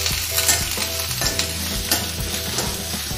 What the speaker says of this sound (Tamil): இந்த வெங்காயம் அதை சேர்த்துடலாம், பச்சை மிளகாய் வந்து சேர்த்துடலாம். இதை கொஞ்சம் வதக்கிக்கலாம்.